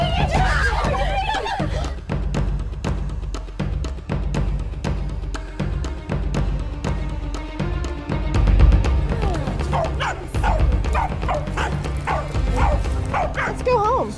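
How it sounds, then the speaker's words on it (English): Dogs yip and bark in bursts, with whimpering, through a long stretch full of talking and background music. "there's a dog that belongs to the Empress"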